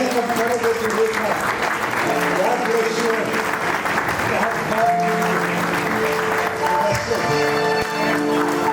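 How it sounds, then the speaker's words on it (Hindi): Wedding guests at a ceremony stand and clap, a dense, sustained round of applause that runs for the whole stretch, with music and voices carrying over the top. "तो खड़े होके तालियां बजाएंगे,"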